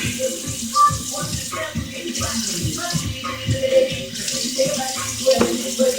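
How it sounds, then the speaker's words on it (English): Tap water runs steadily into a kitchen sink as a cutting board is rinsed, with clattering knocks of the board against the basin throughout, close and fairly loud. "I'm gonna rinse my board"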